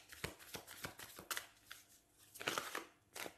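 Tarot cards drawn and handled make a string of crisp papery flicks, slaps and shuffling rustles, close up and quiet, with a denser burst near the end and no voices.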